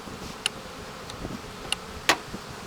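Honeybees from a swarm-derived colony circle a beekeeper at an open hive, giving brief buzzing passes and a few faint ticks in a quiet outdoor setting.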